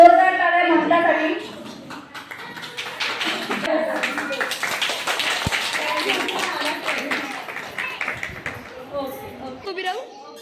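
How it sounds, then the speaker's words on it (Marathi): An audience gives scattered, lively applause for the model Mamta at a housing-society Haldi Kumkum gathering, with voices chattering over and around the claps. "सो जोरदार टाळ्या ममतासाठी"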